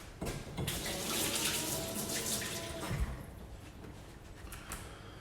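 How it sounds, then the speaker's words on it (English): A kitchen tap runs steadily as hands are washed under it in the middle of a jam tart and sausage roll cookalong, making a close, continuous splashing rush that eases slightly toward the end. "wash my hands again"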